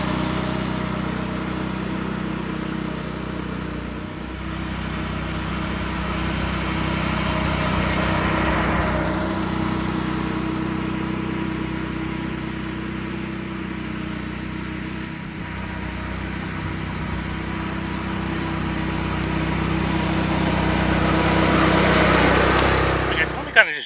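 A lawn mower runs steadily while cutting perennial rye grass, a constant droning engine hum heard up close throughout, with a person speaking over it.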